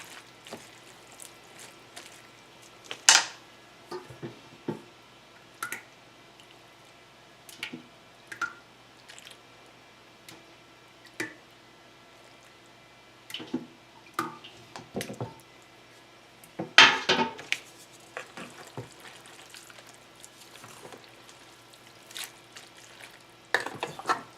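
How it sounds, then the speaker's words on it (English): Baked spaghetti and meatball pasta being tossed through sauce, giving soft wet squishes and sticky slaps in scattered bursts, close and fairly quiet, with a louder cluster of sloppy mixing near the end and no talking. "we're going to toss this in the sauce first before we add our mozzarella"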